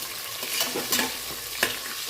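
Green chillies deep fry in a pan of oil, a soft steady sizzle broken by light stirring scrapes, fairly quiet and close.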